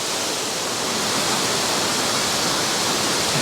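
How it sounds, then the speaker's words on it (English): The 94-foot waterfall on the Falls Trail at Ricketts Glen State Park roars as a steady, dense broadband rush of falling water, loud and unbroken throughout with no voices. "this is 94-foot waterfall."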